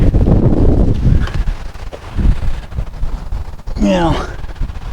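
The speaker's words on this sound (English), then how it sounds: "We had a hell of a gust, and that's all it takes." A strong gust of wind hits the microphone outdoors at a race track, a loud buffeting rumble that swells and fades over a few seconds, followed by a brief squeaky sound near the end.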